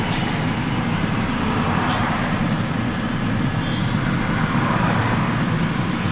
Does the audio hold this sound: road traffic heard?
yes